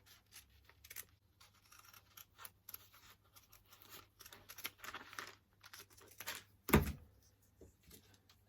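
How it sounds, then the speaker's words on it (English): Scissors cut out a fabric pattern piece for a dancing ballerina project with quiet, close snips and rustling fabric in an irregular rhythm, plus one louder clunk near the end. "So then I'll cut this out."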